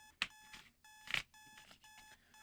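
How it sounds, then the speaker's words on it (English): An alarm clock blares in a Doki Doki Literature Club mod game, sounding in repeated bursts of beeping tones with brief gaps between them, clear and fairly quiet. "As my alarm blares, I groggily open my eyes."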